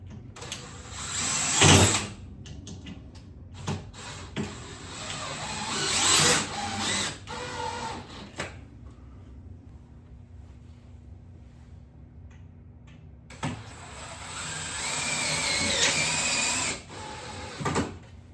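Screws are driven into the back track of a horizontal sliding window frame, with two long bursts of power-driver whirring and a shorter one between them, separated by quieter handling sounds and a faint steady hum.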